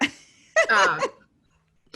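A house dog wary of the mailman gives a short burst of loud, close barks with a breathy edge, then falls silent.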